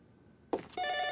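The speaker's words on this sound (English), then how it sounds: "The phone's trying to ring, so I assume I'm to answer" A telephone in the PC horror game Ju-On: The Grudge begins ringing after a quiet moment, a sharp electronic bell tone starting abruptly and holding steady, with no voices over it.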